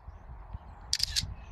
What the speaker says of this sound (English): Let's see how fast is the shutter speed